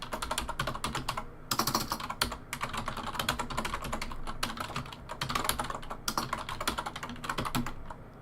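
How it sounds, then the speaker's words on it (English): A very loud computer keyboard clatters through continuous, fast typing, with dense overlapping key clicks and brief pauses between bursts, close to the microphone and with no talking. "It's just a very loud keyboard."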